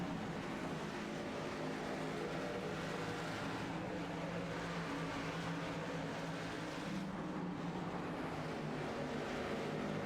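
Race trucks battle side by side on the Bristol oval in a truck series event, their engines a steady distant roar that rises and dips slightly as the pack passes.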